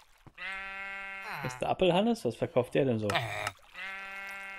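A Minecraft sheep lets out two drawn-out bleats in the blocky game world, one at the start and one at the end, with someone speaking German in between.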